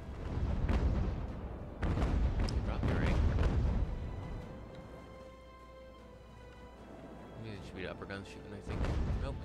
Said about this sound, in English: Shooting, I think. Nope, it's the mid guns.